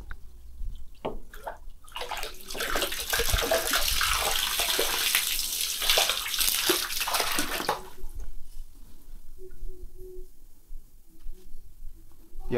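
Water pours steadily into a tub being filled for betta fish, a close, continuous rushing stream that later thins to a softer trickle with faint clicks.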